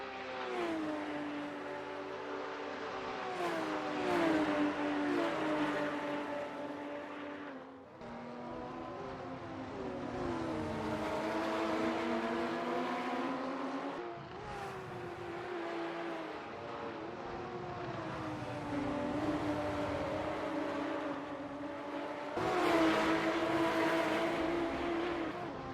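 Onboard engine sound from a Porsche Cayman GT4 race car at Sonoma, the engine revving up and down through gear changes in long rising sweeps, loud and continuous with brief lifts between pulls.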